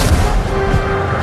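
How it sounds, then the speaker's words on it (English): Cannon artillery fire in a historical battle reenactment rumbles as a dense, continuous low roar of booms, loud and sustained with no distinct gaps between shots. "Napoleon ordered a barrage of his most powerful cannon."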